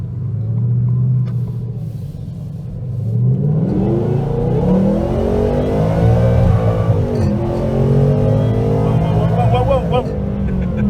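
A supercharged 2019 Ford Mustang GT accelerates hard at part throttle on the street, its deep engine roar building steadily from inside the car, then continuing as a loud, sustained rumble with rising and falling engine tones.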